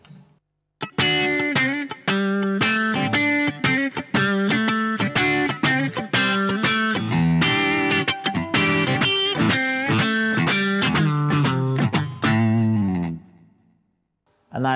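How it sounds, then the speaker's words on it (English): An electric guitar plays a blues lead through a Boss GT-10 multi-effects unit with a distorted tone. Sustained, bending notes and quick phrases ring out loud and alone for about twelve seconds, then fade. "So this would be a blues sound."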